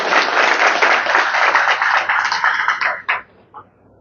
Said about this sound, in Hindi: एक बार जोरदार ताली बजाकर उनका हौसला अफजाई करें